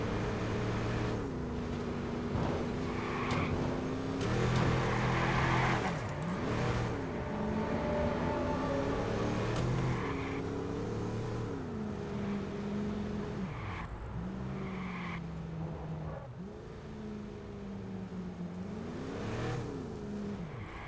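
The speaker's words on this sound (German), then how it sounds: "Warum klingt mein Motor jetzt so komisch?" A car engine in the video game Watch Dogs drones throughout, its pitch rising and falling as it revs up and eases off, with no voices.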